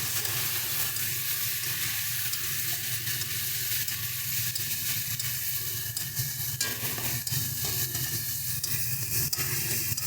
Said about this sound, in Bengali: এবার আমাদের সামান্য পরিমাণে আমরা জল দিই